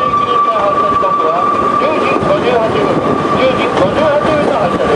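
A mountain railway train on the Minami Alps Abt Line between Nagashima Dam and Sessokyo Onsen rumbles steadily at close range with a sustained whine and screech of wheels, continuous noise throughout, a voice faintly present beneath.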